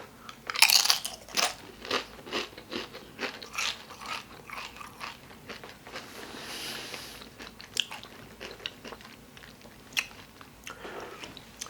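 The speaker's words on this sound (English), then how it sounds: "you're gonna get more crunch out of these every time" Close, crisp crunching of Doritos Flamin' Hot Limon corn chips, with repeated loud bites followed by steady chewing, and no talking.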